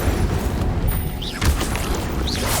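An Incendio fire spell cast in Hogwarts Legacy, a booming whoosh of flame under continuous game ambience, with brief whistling magical sparkles layered on top.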